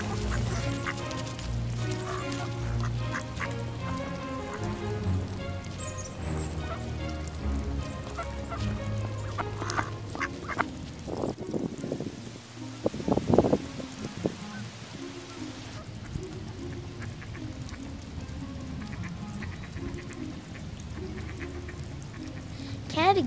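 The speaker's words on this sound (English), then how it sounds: "Geese will flock here in numbers to forage and live out the warm summer days." Geese in a Vancouver, British Columbia bird sanctuary honk repeatedly in a noisy flock, overlapping calls throughout, with a narrating voice speaking over them.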